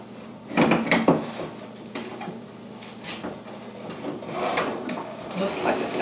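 A drawer in the storage case of a Breville Sous Chef 16 Peel & Dice food processor slides open with a couple of close, sharp knocks and clatters, followed by lighter handling rattles.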